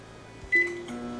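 Amazon Smart Oven emitting a short electronic beep as its microwave mode starts, one close, clear tone followed by a lower steady hum.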